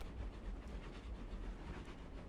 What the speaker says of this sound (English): Look at the cool train as it comes by.